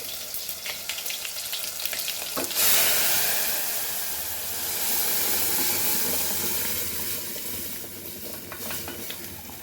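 Dal poured into hot tadka bursts into a loud sizzling hiss of steam and spitting oil in a Goan no-onion, no-garlic dal, settling into steady bubbling frying, close with no voices.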